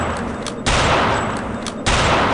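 Sniper rifle fired without a scope in Return to Castle Wolfenstein, two loud, sharp gunshots about a second apart over steady game background noise.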